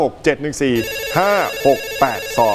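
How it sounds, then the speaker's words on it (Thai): A telephone rings with a bright, repeated electronic tone, heard between spoken bits at a roti and pizza stall. "รับโทรศัพท์ด้วย"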